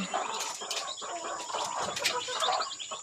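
Rhode Island chickens and a rooster cluck and chirp in a close, busy flurry of overlapping calls, with no one speaking.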